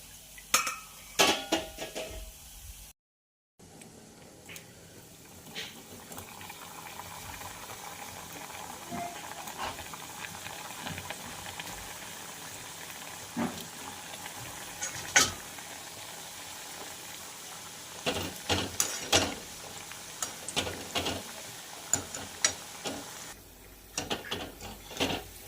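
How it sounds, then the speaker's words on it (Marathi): Shankarpali sweets deep-fry in hot oil with a soft continuous bubbling sizzle, broken by scattered clinks and scrapes of a utensil against the pan, close and with no talking. "तर अशाच प्रकारे आपण सगळे शंकरपाळी तळून घेऊया।"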